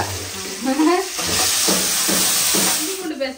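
Meat hitting ginger garlic paste in a hot pan for country chicken fry, a close sizzling hiss with stirring scrapes, while a voice talks over the start.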